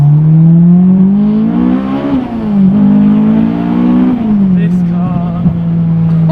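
Honda Civic Type R FD2R with a J's Racing titanium exhaust and individual throttle bodies, a steady loud engine drone that swells in pitch twice as the revs climb and fall, with someone talking briefly over it.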